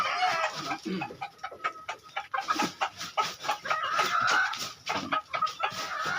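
Farmyard chickens and fighting-cock stags cluck in close, choppy bursts, with a rooster's crow rising now and then amid the steady flock chatter.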